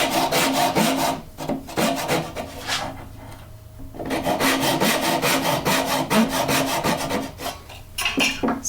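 A hand saw cuts wood in a dovetail spline jig for mitred boxes, with steady rhythmic back-and-forth rasping strokes, close and loud, pausing briefly midway before the sawing resumes.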